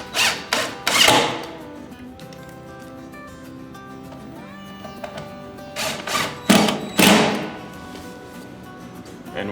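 Screws driven through a fireplace mantel top into a wall cleat, heard as bursts of a power driver whirring and clattering near the start and again later, with quieter pauses of tool handling in between.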